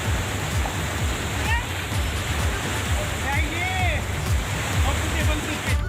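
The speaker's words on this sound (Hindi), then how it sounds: "आप जरा पानी का बहाव देखिए" Fast-flowing river swollen after heavy rain in Pithoragarh, a steady loud rush of turbulent water throughout, with faint bird-like chirps and voices in the background.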